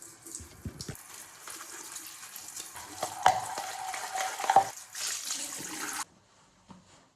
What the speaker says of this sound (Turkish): Tek yıkayacağım bulaşık.